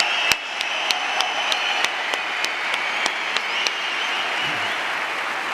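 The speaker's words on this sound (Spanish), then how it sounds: "Marta, un aplauso para ti, un aplauso para Marc, un aplauso para Víctor y para todos los que estáis aquí" Audience applause at a security panel during an economic forum in Madrid, steady broadband clapping with a few sharp louder claps standing out, sustained throughout with little speech.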